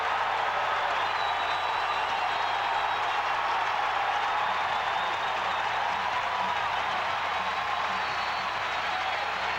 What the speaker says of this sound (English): And listen to this Tennessee crowd.